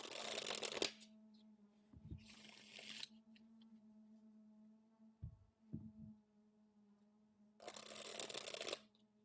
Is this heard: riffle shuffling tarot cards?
yes